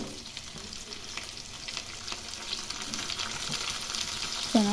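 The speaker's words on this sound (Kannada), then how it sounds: "ಅದನ್ನು ಮೀಡಿಯಮ್ ಫ್ಲೇಮಲ್ಲಿ ಇಟ್ಕೊಂಡು ಫ್ರೈ ಮಾಡ್ಕೊಳ್ಳಿ" Onion and tomato fry in oil over a medium flame, a steady moderate sizzle with light stirring that grows slightly louder, ending with a brief metallic clink.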